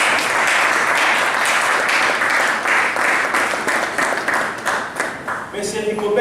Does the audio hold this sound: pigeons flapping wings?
no